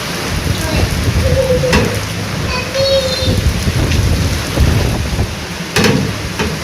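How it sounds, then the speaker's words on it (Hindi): Heavy rain pours in a constant dense hiss, with a low rumble underneath and a few faint tonal chirps and clicks in the background. "इतनी ज़्यादा बारिश हो रही है"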